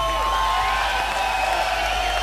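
Live punk rock audience at the DNA Lounge in San Francisco, 1990, cheering, whooping and applauding as a dense, steady crowd roar throughout, with no words spoken.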